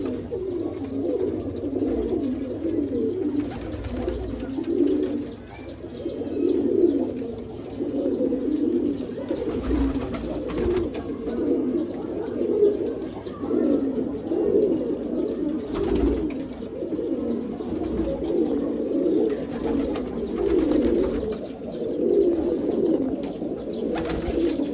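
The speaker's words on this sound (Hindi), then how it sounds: "ये कबूतर है जी जो रुकने वाले हैं" Pigeons coo continuously at close range, with soft, overlapping throaty calls forming a steady rhythmic murmur and no talk.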